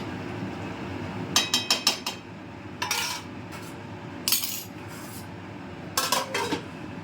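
A metal lid rattling and clinking onto a cooking pot of Bengali shukto after the gas is switched off, in several bursts of sharp, bright metallic clatter with quiet gaps between them.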